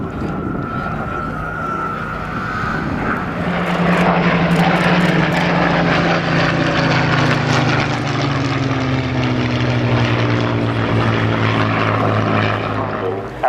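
Propeller aircraft fly past in the fighter display at the RAF Cosford Air Show, a loud sustained engine drone with rising and falling pitch that swells as the planes draw near and holds steady overhead.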